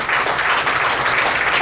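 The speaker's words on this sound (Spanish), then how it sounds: "¿Cuánto le da un aplauso al Señor?" A congregation at a church sermon applauds the Lord, a dense, even wash of clapping held at a steady loudness throughout, with no speech on top.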